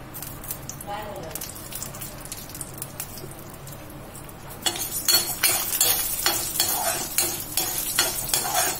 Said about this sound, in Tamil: பருப்பு வரத்தை எடுத்துக்கணும்